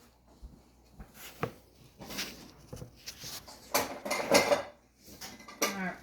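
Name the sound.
metal cookie cutters being gathered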